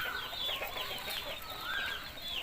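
A large flock of young chickens, about a hundred at a breeding farm, keeps up a steady chatter of clucks and rising chirps at moderate distance, with no talk over it.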